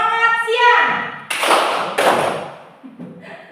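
Elementary schoolchildren in a classroom do a concentration clapping rhythm, with a spoken call followed by two sharp group claps, then more talking.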